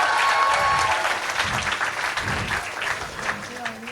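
A burst of applause from a crowd, dense clapping that starts strong and gradually thins out over a few seconds.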